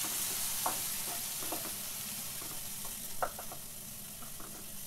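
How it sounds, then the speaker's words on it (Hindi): Onions and tomatoes fry in a pan, a steady soft sizzle running throughout with scattered clicks and scrapes of stirring, close and fairly quiet, with no one talking. "अब इसके अंदर हम टमाटर डालकर इनको भी अच्छे से भून लेते हैं।"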